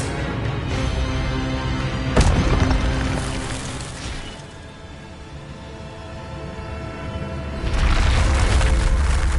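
Spell blasts in Hogwarts Legacy, including a fiery Incendio burst, land as loud whooshing cracks over game music, with one sharp impact near the start and a swelling fiery roar toward the end.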